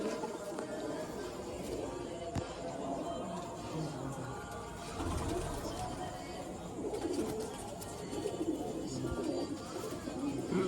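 A pigeon coos in low bursts while being held and shown by hand, with someone talking over it and other birds chattering in the background.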